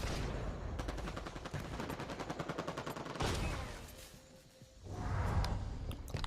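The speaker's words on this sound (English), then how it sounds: "Oh, you little shit with your assault rifle." Rapid automatic assault rifle fire in Halo, dense bursts of close, loud shots rattling for about three seconds, then a short pause and another burst, no talking.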